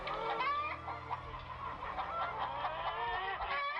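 A flock of chickens clucks and squawks continuously close by, overlapping calls in a busy, unbroken barnyard chatter.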